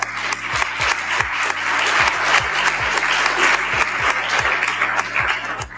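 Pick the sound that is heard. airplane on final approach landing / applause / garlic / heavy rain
applause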